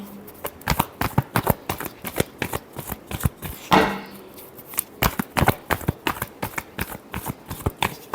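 Tarot cards shuffled by hand in a quick steady rhythm of crisp, close riffling slaps, with one longer cascading riffle partway through and no talk.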